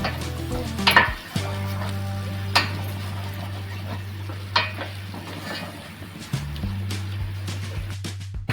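Masala of turmeric and spice powder fried in oil in a pan for makli (squid) masala, a steady soft sizzle with a few sharp scrapes of a spoon stirring, and a low hum running underneath.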